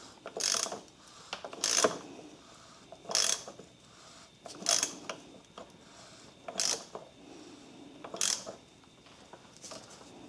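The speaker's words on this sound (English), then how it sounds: "I'm tightening up this oil cooler cap." A ratchet wrench clicks in repeated short bursts, about seven strokes at a regular pace, as an oil cooler cap is snugged down on a Volkswagen Jetta VR6 engine. The clicks are moderately close in a quiet space.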